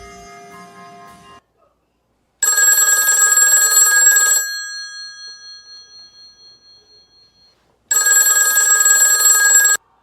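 A telephone rings in two loud bursts of bright electronic trilling, the first ring fading out slowly before a second burst starts, in a quiet indoor room.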